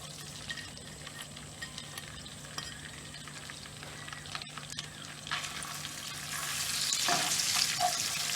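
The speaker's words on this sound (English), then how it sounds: "I'm gonna add my garlic and cook this for 1 minute" Garlic cooks in hot olive oil and butter for a seafood marinara, giving a soft, steady crackling sizzle that swells louder and brighter toward the end.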